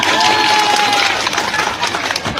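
Applause rises at a village official appointment ceremony for a hamlet head in Banjarnegara, a steady, moderately loud wash of clapping that fills the whole stretch with no one speaking.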